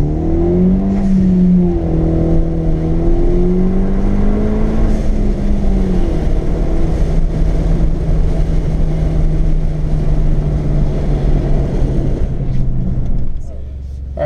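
Inside a Hyundai Veloster Turbo fitted with an Injen intake and blow-off valve, the engine drones and rises in pitch through several gears on an open road, loud and continuous, with shifts breaking the tone before it eases off near the end.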